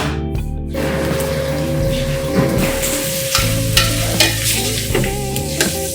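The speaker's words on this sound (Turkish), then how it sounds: "Çok az bir sıvı yağla bunu kavuruyorsun" Onions being sautéed in a little oil: steady frying sizzle in a pan with intermittent stirring scrapes, close and continuous, no voices.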